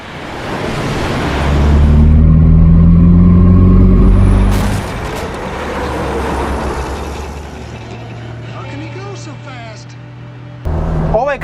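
A truck overtaking a car on a two-lane road, with a heavy engine roar building and passing close on the outside, then fading to the steady hum of the car's own engine and road noise.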